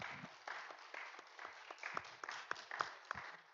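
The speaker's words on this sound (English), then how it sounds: "Yes, give them a round of applause." A small audience at a student election forum gives the two candidates a round of applause, scattered and fairly faint claps with a few sharper hits.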